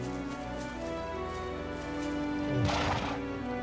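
A horse whinnies loudly over a steady background of game music in the video game Trails of Cold Steel 2, with a burst of hoof and neigh noise near the end.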